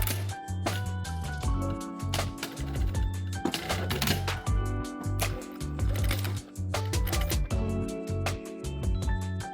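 A sewing machine stay stitching across the boning channels of a corset, a rapid mechanical clatter with a pulsing low hum, close and continuous with brief pauses.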